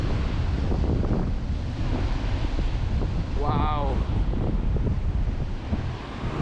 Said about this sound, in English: Those things are proper big rip curlers. Like, look at this length of these big waves behind me folks.